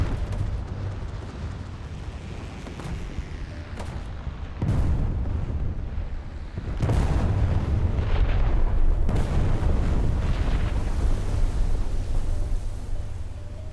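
Bomb blasts and artillery fire from a 1941 German bomber attack on the destroyer HMS Isis off Syria, a dense continuous rumble of booms and bursts that swells louder midway and stays heavy, with no voices.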